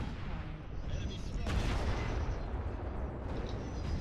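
Heavy video game gunfire and explosions, a constant loud rumble of shots with a sharp burst partway through, blended into a busy battle soundscape.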